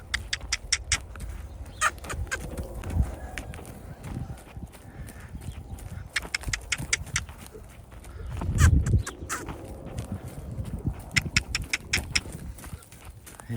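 Hooves clop in a steady walking rhythm, sharp and close, with a rustling, blowing sound in the middle and brief bird calls behind.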